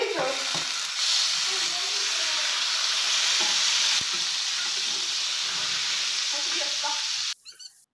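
Chicken pieces frying in oil in a frying pan, a loud continuous sizzle and hiss close up with occasional stirring clatters, ending abruptly in near silence.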